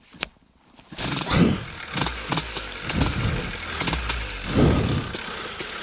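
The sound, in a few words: light aircraft propeller engine starting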